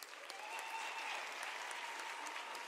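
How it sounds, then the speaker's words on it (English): A graduation ceremony audience at the University of South Africa breaks into steady applause, a dense wash of many hands clapping at even loudness throughout, with no talk over it. "I think our colleagues deserve a round of applause."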